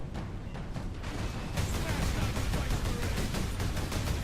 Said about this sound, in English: Every time you see an explosion here, that means more orcs have spawned.